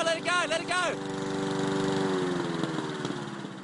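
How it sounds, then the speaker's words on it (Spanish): A lawn mower engine, run by caretakers near an Australian crocodile, drones steadily at close range, with a voice speaking over it at the start. "el ruido que estaban haciendo sus cuidadores con la cortadora de césped"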